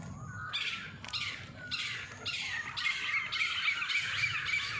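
A bird squawks over and over in a steady series of harsh calls, about one per second, at moderate distance with faint background noise.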